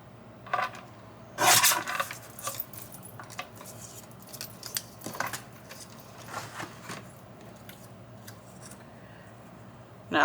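Scissors snipping paper strips into junk journal dangles, close and crisp, with a burst of sharp cuts near the start, then scattered lighter snips and paper rustling.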